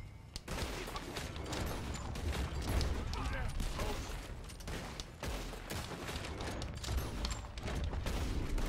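Gunfire in Red Dead Redemption 2, a dense run of sharp shots crackling almost continuously at close range amid chaotic noise, with voices mixed in.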